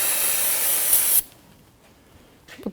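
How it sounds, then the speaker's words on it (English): Parts cleaner sprayed onto a brake caliper of a 2007-2017 Jeep Patriot gives a loud, close aerosol hiss for just over a second, then stops sharply, followed by faint handling sounds. "Just going to take some of the parts cleaner."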